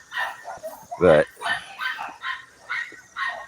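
Dogs bark in short bursts close by, several yips and barks scattered across the moment while someone talks over them.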